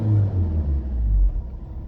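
A 2013 Fiat Doblo van's 1.3-litre diesel engine rumbles low and steady while driving, close and loud with no talk, easing off toward the end.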